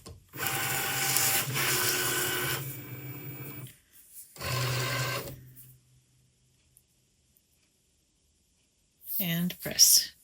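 An electronic cutting machine fitted with a fabric cutting blade runs in two steady mechanical whirring passes, close and fairly loud, then goes quiet before a brief voice at the end.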